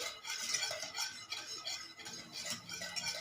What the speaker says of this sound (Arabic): بدأنا نقلب كده لحد ما اخد القوام بتاع المهلبيه الخفيف